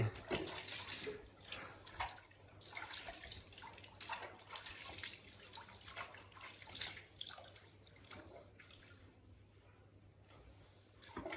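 Someone who has long gone unwashed sits in a basin and bathes, making faint, irregular splashes and trickles, with insects chirping softly in the background.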